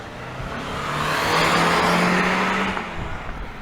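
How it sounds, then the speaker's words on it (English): A car revs and accelerates along a residential street near Reno, Nevada, the engine roar swelling to a peak midway and then fading as it passes. "Yeah, he's gonna tear his car up."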